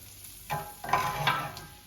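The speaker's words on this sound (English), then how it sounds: "Now the bacon's being crisped off" Bacon lardons sizzle and crackle in a frying pan with pigeon-breast juices, garlic and butter, stirred in a few brief scraping pulses over a steady close frying hiss.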